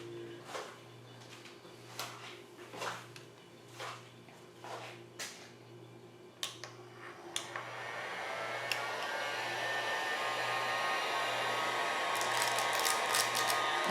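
A heat gun shrinks plastic wrap around a bar of soap, first a low hum under scattered rustling and crinkling of the film, then a steady loud blowing roar that takes over for the rest.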